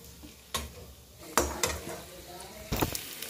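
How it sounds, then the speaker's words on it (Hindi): Cashews and almonds roasting in ghee: soft frying sizzle under several spoon scrapes and clinks against the pan, close, with no speech. "ये सारी मेवाएं मैं पहले इनको भून लूँगी घी में"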